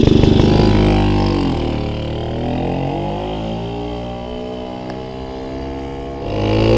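A Motobécane 50 moped fitted with a Polini exhaust runs after its first start in over 20 years, its small engine loud and close, revving and settling into a wavering idle.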